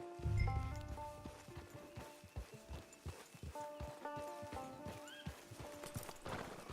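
A horse in the Red Dead Online video game whinnies loudly near the start, then hooves clip-clop in a steady rhythm over ambient game music and effects.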